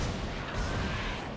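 Enemy rocket fire in Dead Space, a brief dense roaring blast of noise that stays loud and sustained for over a second.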